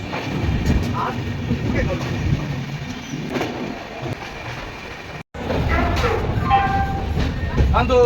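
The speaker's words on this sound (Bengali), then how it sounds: "আমাদের ট্রেন চালো রানগঞ্জ স্টেশন থেকে" The Jammu Tawi Express passenger train, running on after pulling out of Raniganj station, rumbles steadily with rail noise and faint clatter, and people can be heard talking over it, with a brief cut partway through.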